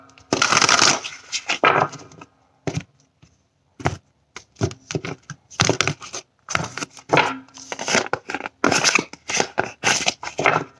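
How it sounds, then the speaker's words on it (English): Tarot cards being shuffled by hand in repeated bursts of riffling and flicking, separated by short pauses, close and fairly loud with no talk over them. "One more shuffle."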